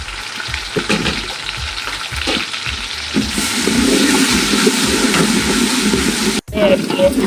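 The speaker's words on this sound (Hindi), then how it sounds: "ऑयल के अंदर हमने प्याज डालनी है, फिर उसको फ्राई करेंगे" Onions frying in oil in a kadhai while making kadhi pakora, a steady sizzle that swells louder partway through, with a few soft stirring knocks near the start.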